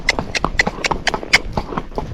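Tennessee Walking Horse named Zorro racking at an easy, sped-up pace, its hoofbeats landing in a quick, even four-beat clip-clop, close and crisp over faint background noise.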